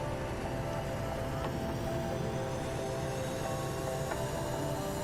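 Jet engines on an MD-80 airliner spool up toward takeoff power with a steady, dense roar and faint rising whine tones, continuous and unbroken, with no talking.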